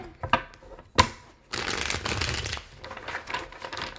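Tarot cards are shuffled quickly nearby, a couple of sharp riffles followed by a sustained flurry of papery flicking and rustling.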